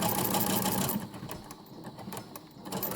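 A sewing machine stitches across a tote bag seam, a fairly quiet rapid whirring close by that softens and slows partway through, then picks back up.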